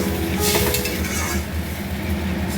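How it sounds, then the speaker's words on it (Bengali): Vegetables tossed with spices in a pan being stirred, a steady scraping and rustling with faint sizzle and occasional utensil clinks against the metal, close and continuous with no talking. "সবজিটা মশলার সাথে ভালোভাবে মিশে গেছে"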